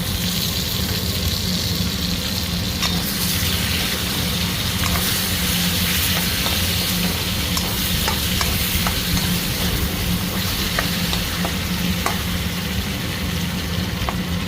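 Tomatoes go into a frying pan of fried rice with potato and cauliflower, giving a steady loud sizzle with scattered clicks and scraping stirs throughout, no voices.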